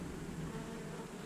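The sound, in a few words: bees buzzing around a hive colony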